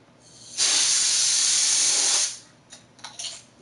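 Compressed air sprayed at a computer keyboard gives one loud, steady hiss of about two seconds, then a few short, softer bursts.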